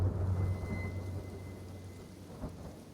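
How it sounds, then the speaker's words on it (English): Acid rain pours steadily in the game Kenshi, a dense hiss of rainfall with a deep thunder rumble rolling underneath at the start and fading as the clip goes on. "Acid rain, take shelter."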